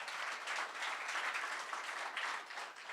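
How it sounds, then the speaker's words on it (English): An audience applauds a speaker being introduced at a business forum, a soft, even wash of many hands clapping heard from some distance, steady and faint throughout. "let's give him a quick round of applause"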